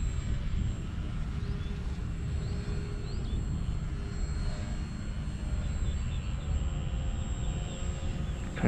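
A 1000mm EPP Hummer 3D RC stunt plane in flight: a continuous electric motor drone with a whining tone that stays fairly loud and steady, pitch shifting slightly as it maneuvers.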